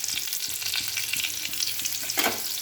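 Bay leaves, dried red chillies and whole garam masala sizzle in hot oil with a continuous close hiss. Faint rhythmic stirring taps run underneath, and a louder crackle rises near the end, with no talking.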